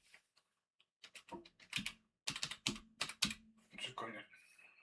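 Fingers clatter a Linux terminal command into a computer keyboard, with quiet sparse taps giving way to quick, close bursts of keystrokes and a pause between them.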